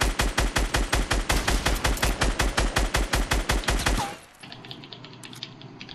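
Rapid automatic gunfire in Fortnite Battle Royale fires in a loud, evenly spaced burst for about four seconds. It stops abruptly and leaves faint background game sounds.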